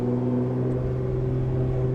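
Tuned Nissan GT-R engine held at steady high revs for launch control, a loud continuous droning hum with strong steady tones throughout, close up and with no talking.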